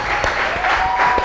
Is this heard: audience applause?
yes